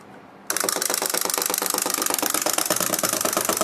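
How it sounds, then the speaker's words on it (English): Wound-up wind-up toy mechanism running, a rapid steady clicking whir that starts abruptly and continues evenly, close and fairly loud. "We'll just wind it up."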